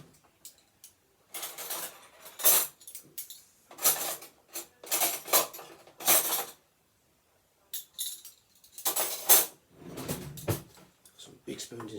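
Big metal spoons and tin cans clatter and clink in irregular bursts of handling, close and bright, with pauses between and a voice talking at points.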